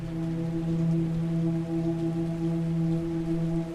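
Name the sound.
rain on evening street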